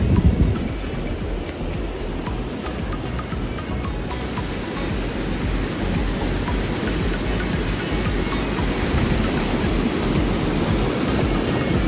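Heavy rain pours down near a base camp in Pahalgam beside a swollen river, a loud, unbroken broadband roar of falling water and rushing current that holds steady throughout.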